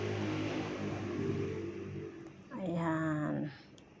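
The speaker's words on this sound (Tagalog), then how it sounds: "Naririnig nyo yung mga sasakyan, napakaiingay." Passing road traffic at a roadside during outdoor cooking: a steady broadband roar of vehicles, with one engine swelling loudly nearby for about a second, revving and fading as it passes.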